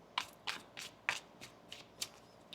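A deck of tarot cards is shuffled by hand at a table, about eight quick, crisp riffles and snaps spaced evenly and heard close but softly, with no talking.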